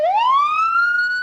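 An ambulance siren wails in a single rising sweep, loud and close, on a busy Tel Aviv street near a burning cafe after a bombing, with no voices over it.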